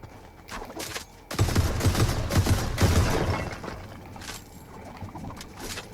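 Rapid bursts of gunfire in Fortnite on Switch 2, dense overlapping shots and impacts forming a loud sustained fusillade that starts abruptly and then thins out into scattered shots.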